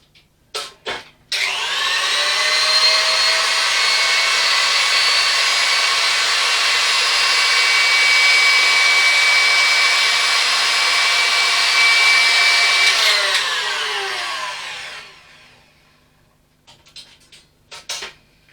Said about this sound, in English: Don't fire your stand mixer up while the head is out of the bowl, because it sprays you with fucking cookie batter